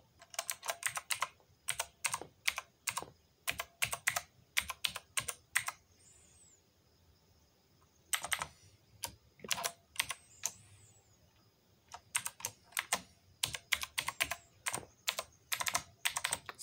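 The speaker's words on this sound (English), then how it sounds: "We're typing with one hand." A password tapped out one-handed on a computer keyboard, with close, crisp keystrokes in quick irregular bursts separated by brief pauses, alone in a quiet room.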